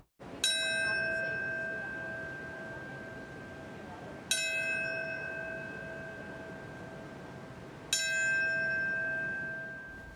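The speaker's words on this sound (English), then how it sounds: "In New York City, a bell rang at 9:59 a.m." A memorial bell in New York City tolls three times for the September 11 anniversary. Each clear, resonant strike comes about four seconds apart and rings out slowly before the next.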